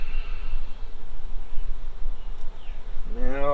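Honeybees buzz steadily inside an opened beehive during a hive inspection. A dense, close drone holds throughout and swells with a sharper, pitched whine near the end.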